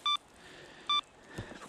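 An avalanche beacon in search mode gives two short, clear electronic beeps about a second apart, with quiet outdoor background between them.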